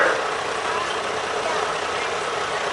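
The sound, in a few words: International antique truck engine idling in parade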